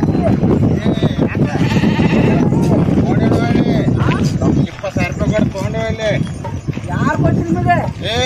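Sheep bleat repeatedly in a flock, with several wavering cries close by, under loud ongoing talk from people nearby.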